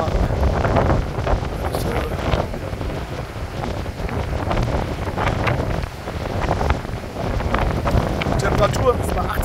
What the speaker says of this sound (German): Außer der Wind ist halt unangenehm, sehr unangenehm.